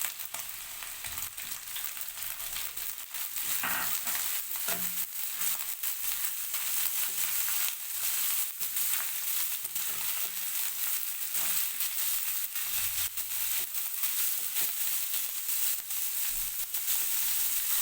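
Chopped onions fry in hot oil in a pan for a Hindi-style aalu gosht roll filling, a steady, loud sizzle that runs throughout with occasional stirring scrapes and no talking.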